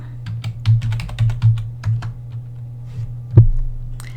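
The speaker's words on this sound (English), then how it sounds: "type in your login credentials" Login details typed on a computer keyboard: a quick run of close, distinct key clicks over a steady low electrical hum, a short pause, then a final heavier keystroke.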